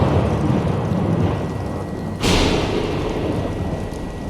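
Thunder from a lightning strike in the Bendy and the Dark Revival video game, a sudden loud crack that rolls into a dense rumble over a steady wash of heavy rain.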